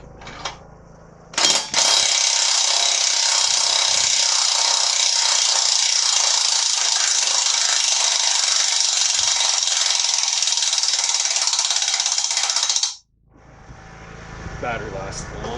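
Cordless impact wrench running a socket on sawmill leveling feet, a loud continuous whirring rattle lasting about eleven seconds after a brief start, then cutting off abruptly.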